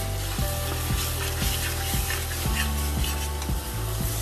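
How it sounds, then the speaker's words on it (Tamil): Chopped tomatoes sauté with chili powder and turmeric in a hot pan, a steady close sizzle broken by regular scraping stirs of a utensil against the pan. "தக்காளி நல்லா வந்து குட்டி குட்டியாக சாப் பண்ணி நான் ஆட் பண்ணியிருக்கிறேன். சரியும் சேர்த்து வதக்கிட்டு மிளகாத்தூள், மஞ்சத்தூள் சேர்த்து வதக்கிக்கலாம்."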